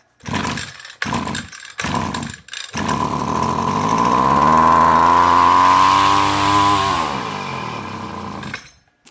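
A small two-stroke Echo GT-225 string trimmer engine sputters in a few short bursts, then catches and runs loud and buzzing, revving steadily before cutting off.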